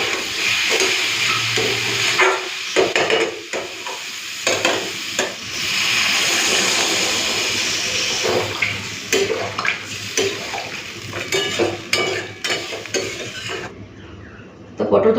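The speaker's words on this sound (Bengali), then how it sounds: "জল দিয়ে দেবো আলু সেদ্ধ হয়ে গেছে অল্প একটুখানি জল দেবো" Water is poured into a pot of potato and pointed gourd curry. A brief steady rush of liquid is surrounded by repeated clattering stirs and utensil knocks against the pot, with some sizzling.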